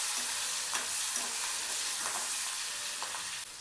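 Peanuts, cut ripe green chillies and cumin seeds sauté in hot oil left from frying potatoes for batata poha. A continuous bright sizzle carries a few quick stirring scrapes, close and fairly loud.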